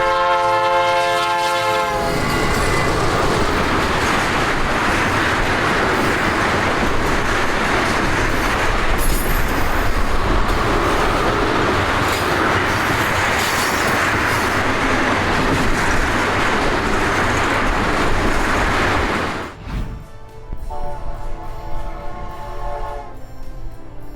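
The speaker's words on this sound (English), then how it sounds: "An EMD SD75I leads an ethanol train out of Burlington, Illinois right as the February snow starts" A BNSF EMD SD75I diesel locomotive leads a 2,800-foot ethanol freight train near Burlington, Illinois in February snow, its horn sounding in long, loud chords over steady rumbling and rolling wheel noise before the blasts end and the train keeps passing.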